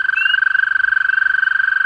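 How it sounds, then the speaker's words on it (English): High, rising peeps from spring peepers chirp a couple of times over a loud, steady trill of other frogs, in a dense outdoor chorus. "Those are some spring peepers."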